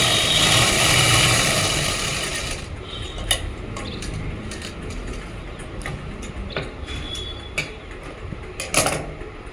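A sewing machine stitching a pocket onto palazzo pants whirs steadily at close range for a few seconds, then stops, followed by scattered clicks and fabric handling.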